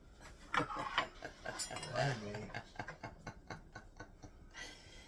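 A knife cuts sausage on a cutting board in quick rhythmic strokes, with scraping and light clattering of cutlery close by, and quiet speech in the background.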